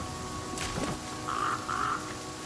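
Crows cawing in the survival game The Flame in the Flood, a couple of short caws followed by two brief calls, moderately close over a low ambient hum.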